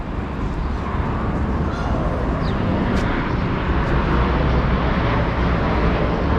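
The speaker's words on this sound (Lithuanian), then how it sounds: "Lėktuvai skraido." A steady low roar of aircraft overhead near ruins in Sofia fills the whole stretch, with a dog barking faintly now and then in the distance.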